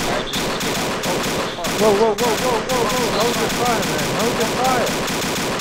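Close, rapid bursts of automatic gunfire crackle steadily in a military video game, loud and near, while a voice speaks briefly over the shooting.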